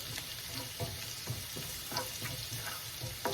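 Garlic frying in a pan for beef pares sizzles steadily and close, with a busy crackle of hot oil and occasional clicks of stirring throughout.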